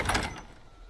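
In Skyrim, a door opens with one short creaking, scraping sound that fades within half a second, heard close and alone.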